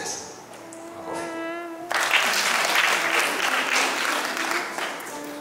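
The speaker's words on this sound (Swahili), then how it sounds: "Makofi." An audience at a religious or political gathering bursts into applause after a speaker's voice, loud and dense clapping that starts abruptly and carries on steadily to the end.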